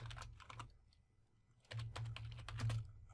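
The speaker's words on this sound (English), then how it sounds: "So I'm going to type console.writeLine" Computer keyboard typing code in two bursts of quick, close clicks, with a short quieter pause in between; no talking.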